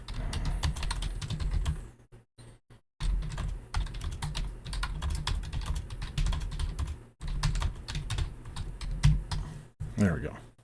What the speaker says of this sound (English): Oh, but first we'll type in a little scope of work here.